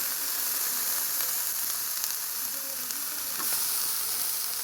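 Dried chilies fry in hot oil for a Bangladeshi taki fish bharta, giving a steady, close, dense sizzle with faint scattered crackles throughout and no talking.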